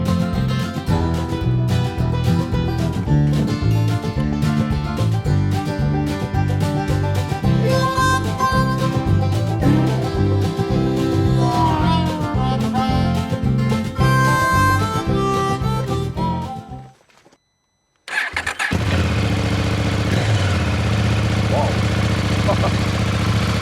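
A KTM 890 Adventure R fitted with a Sharon exhaust warms up close by, its engine loud and revving with shifting pitch. It cuts out briefly, then settles into a steady, rumbling idle.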